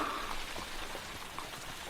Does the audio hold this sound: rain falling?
yes